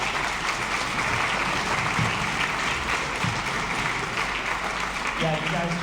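A middle school audience at a spring orchestra concert claps in sustained, dense applause that stays steady throughout, with a voice speaking briefly near the end.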